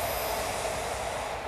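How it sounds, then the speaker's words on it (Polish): A train rolls past near abandoned allotment gardens in Görlitz, a steady loud rumble of wheels on rails filling the whole stretch with no talk. "słyszeliście pociąg akurat przejeżdżający"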